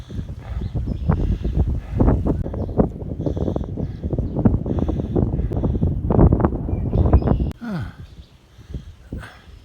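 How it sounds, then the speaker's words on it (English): Strong cold wind buffets the microphone outdoors near a barn and baler on a farm, loud gusty rumbling with irregular thumps that eases off toward the end. "Sun's warm, but that wind is brutal."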